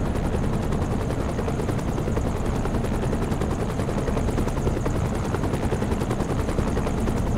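A helicopter in the American Truck Simulator video game flies close by. Its rotor chops in a loud, steady rhythm without a break, and no one speaks over it.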